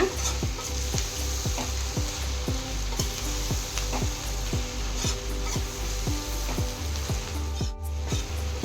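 Vegetarian kothu parotta stir-frying in a pan, a steady close sizzle with rhythmic scraping strokes of the spatula about every half second, no talk.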